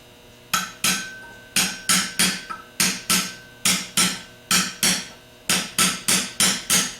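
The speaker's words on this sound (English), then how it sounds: "Tap it gently around the outside edges and make sure that it's going in straight." Metal tool tapping a new bushing into a 10MT starter housing using a 3/8 extension, a quick series of sharp, close hammer taps in uneven rhythm, each with a brief ringing decay.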